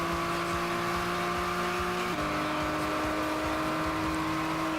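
GT3 race cars in a Gran Turismo 6 race, engines droning loud and steady with a sustained high whine, the pitch dropping as a gear shift comes about halfway through, no voices over it.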